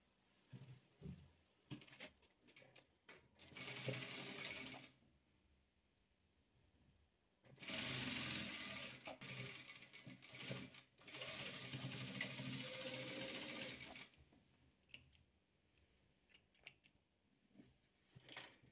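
A sewing machine stitches rows of a patchwork quilt together in quiet surroundings, running in several bursts of rapid mechanical chatter separated by pauses filled with faint handling clicks.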